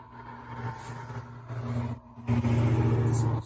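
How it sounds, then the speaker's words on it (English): Cars pass along the road outside a house's open front door, engines swelling and fading as vehicles go by, with a louder car rumbling past near the end. "Traffic going by."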